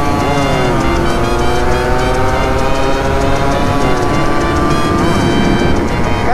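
A turbocharged Yamaha V80 motorcycle revs up and roars past, its pitch climbing with steady acceleration over constant traffic noise, no talking.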